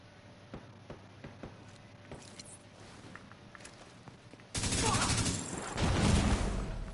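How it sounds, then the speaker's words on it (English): Scattered gunshots pop at irregular intervals in The Division 2, then a sudden heavy barrage of loud sustained fire and explosions takes over for the final seconds. "I'm taking heavy fire."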